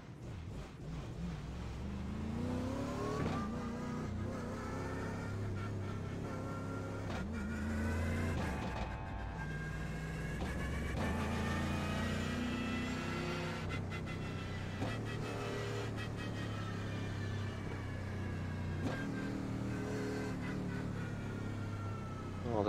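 A Mercedes GT3 race car in an iRacing sim race at the Nürburgring drones steadily, its engine pitch rising and falling through gear changes at a constant, loud level.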